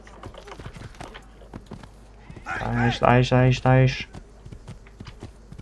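Horse in the Assassin's Creed 2 video game neighs in a loud, stuttering whinny midway, with faint hoof clip-clops around it and someone speaking briefly.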